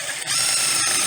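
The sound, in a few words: screw being driven into 1x2 wood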